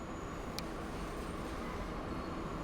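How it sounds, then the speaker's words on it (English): In the game Transport Fever 2, an English Electric tram climbs a mountain with a steady rumbling roll of wheels on rails, alone and at moderate volume, with one short high squeal early on. "The English electric balloon going up the mountain."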